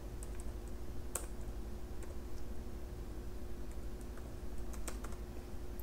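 Code for a Laravel project is typed on a computer keyboard: faint, scattered key clicks come in irregular bursts over a steady low background hum.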